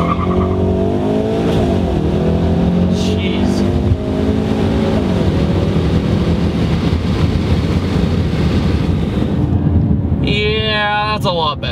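A Ford Mustang EcoBoost fitted with a big turbo accelerates hard from inside the cabin, engine note rising loud and continuous with heavy wind and road roar, while a person talks over it.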